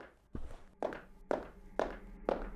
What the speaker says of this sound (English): Like when you're walking on this carpet,